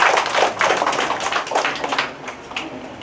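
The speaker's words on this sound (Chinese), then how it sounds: "掌声，谢谢" Junior high students in a math classroom applaud in a short, dense burst of many hands clapping. The clapping stays fairly close and fades slightly toward the end, with no talking over it.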